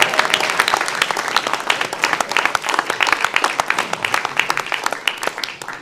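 Audience applause during a public lecture at a forum in Gwanghwamun, Seoul: a room of people clapping steadily and fairly loudly, with distinct individual claps and faint crowd murmur.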